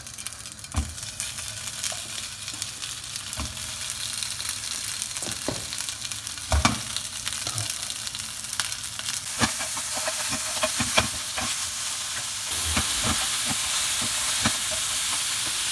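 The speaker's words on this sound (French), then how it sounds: "Et on met nos merguez dans la poêle" Merguez sausages sizzle in a hot pan with no added fat, a steady close crackling hiss running throughout with scattered sharp pops and brief clatters of turning.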